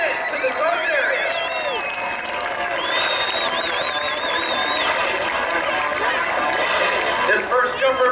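A large Illinois crowd cheers and claps at a United States Army Golden Knights parachute team skydiving show in Decatur, with a sustained roar of voices and shrill whistles continuing through the whole stretch.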